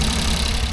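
A high-roof minivan's engine idles steadily nearby, a continuous low rumble with no talk over it.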